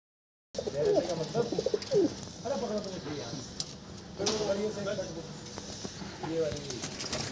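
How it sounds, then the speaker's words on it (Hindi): Madrasi pigeons kept as a pair give soft, low cooing calls in repeated rolling phrases. They sound close by, with some rustling and light background noise between the coos. "ये जोड़े वाले कबूतर हैं"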